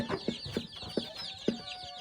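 A few chickens cluck softly and close by in a rural yard, with four or five short, evenly spaced clucks over a quiet background.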